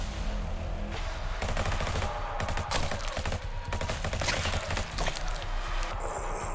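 An 80s action rifle fires in Frontline ZED in rapid, punchy bursts, loud and close, with rattling shots packed tightly together and no voice over them.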